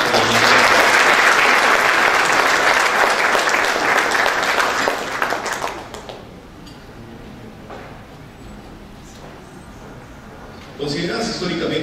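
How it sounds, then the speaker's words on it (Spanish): An award ceremony audience applauds the Bolivian embassy, loud sustained clapping for about six seconds that drops to a quieter room with scattered sounds, then voices and noise return near the end. "Fuerte los aplausos para la embajada."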